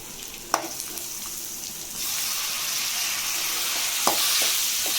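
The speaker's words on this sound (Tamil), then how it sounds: "இப்போ தக்காளி எடுத்து போட்டுக்கலாம்." Onions and tomatoes frying in hot oil in a pan, a loud steady sizzle that swells after a moment, broken by a few clinks and scrapes of a stirring spoon, close up with no talking.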